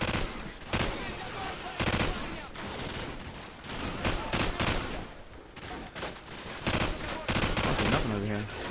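Rapid bursts of automatic gunfire and heavy explosions in a Call of Duty 4: Modern Warfare firefight, loud and dense, with fusillades of shots broken by short pauses and faint voices under the shooting.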